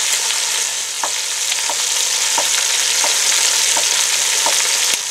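Pork belly frying in a pan, a steady broadband sizzle held at an even, loud level throughout, with faint periodic clicks roughly every half second, as of stirring or turning the meat.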